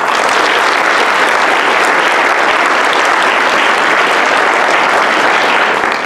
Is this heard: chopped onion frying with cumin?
no